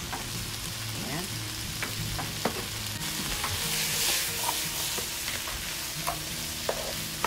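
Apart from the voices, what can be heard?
sautéing garlic, onion, tomato and mustard green stems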